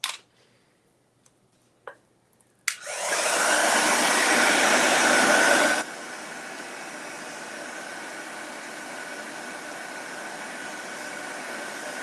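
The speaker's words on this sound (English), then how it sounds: "I'm going to blow dry this time" A few small clicks and knocks give way to a loud, steady roar from a blow dryer drying chalk paste on Halloween decor, then the airflow drops to a lower, continuous whoosh that lasts to the end.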